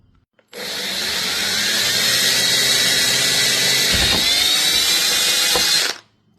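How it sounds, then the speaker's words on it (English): Power drill boring a hole through a wooden panel for mounting a deer skull, a single sustained high whine lasting several seconds, close and loud, with a brief dip as the bit bites, then stopping abruptly. "Drill your hole."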